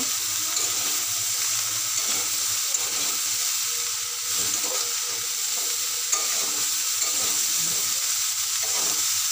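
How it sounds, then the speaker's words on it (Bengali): Drumstick stems being stirred together with fried potatoes in a spiced pan, a continuous close sizzle with soft rhythmic scraping strokes throughout, no talking. "এবার দিয়ে দেবো আলু ভাজা, দিয়ে ভালো করে আবার ডাঁটার সঙ্গে মিশিয়ে নেব।"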